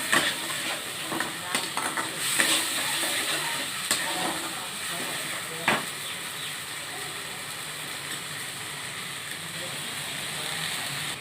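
Poppy seed and sesame paste fries in rice bran oil with continuous sizzling, steam and scraping stirs across the whole stretch, close and fairly loud, with a few sharper knocks early on.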